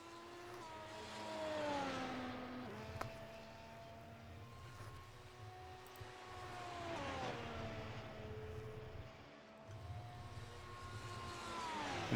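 A race car engine drones down pit lane at an ABN Hyper Formula Championship session at the Australian Grand Prix, its pitch gliding down and back up in repeated sweeps at moderate distance.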